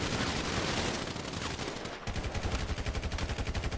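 Gunfire in a shooter video game, a dense wash of shots that turns into a rapid, evenly pulsing automatic burst during the second half, loud and continuous.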